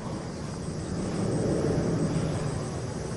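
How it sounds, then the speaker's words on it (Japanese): An airplane descending on its landing approach, a steady broadband engine roar that swells slightly and holds through the whole stretch, heard outdoors with no talk. "このコースで飛行機が着陸態勢とってます。"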